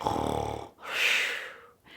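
Snoring of an old man, two slow drawn-out breaths, a rattling inhale followed by a hissing exhale, close and fairly soft; it sounds like a person imitating snores rather than genuine sleep.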